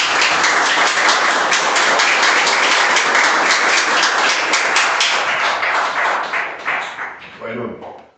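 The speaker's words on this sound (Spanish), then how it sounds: "¿Cuántos le dan un aplauso al Señor?" A church congregation claps loudly together in a sustained burst of applause, dense and continuous before thinning into scattered claps and fading at the end.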